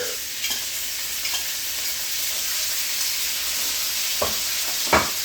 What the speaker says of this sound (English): We're going to sear it. Start stirring it around.